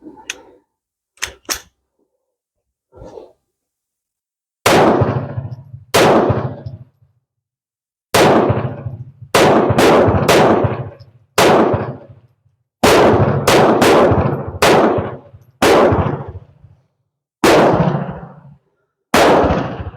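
Surplus .32 caliber reloaded cartridges fire in a long, irregular series of loud, close, sharp cracks. A few quieter pops open the sequence, then heavier shots follow singly and in quick pairs, each separated by brief silences.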